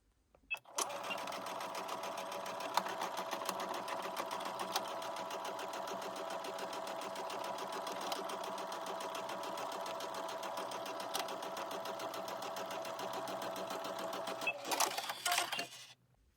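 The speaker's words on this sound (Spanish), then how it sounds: "hacer en la máquina de coser." A sewing machine stitches a bag seam, joining lining and outer fabric, running in one long continuous whirring burst after a brief start, close and steady, then stopping with a few short bursts near the end.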